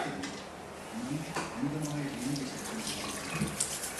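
Tap water runs steadily into a sink while a clear dental aligner is rinsed under it, splashing softly while a person talks over it.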